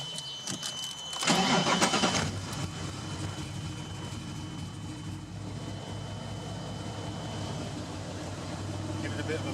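A fiberglass-bodied English sports car, TVR or Noble, fires up with a loud burst, then settles into a steady, throaty idle close by, with people talking over it.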